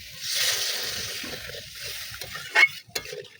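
Water poured into a pan of spiced fried potatoes, a steady sizzle and hiss that settles down, followed by a couple of short sharp splashes or clinks near the end.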